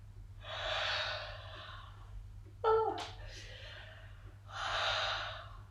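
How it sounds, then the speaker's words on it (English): Deliberate yawns during a Tai Chi-inspired movement session, heard as two long, airy breathy swells, one near the start and one near the end, with a brief sharp gasp or snort between them over a low steady hum. "We're going to try and yawn"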